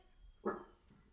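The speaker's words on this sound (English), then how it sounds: "That's the dog." A dog gives a single short bark at a distance, faint and muffled, followed by the start of another, with a voice speaking briefly nearby.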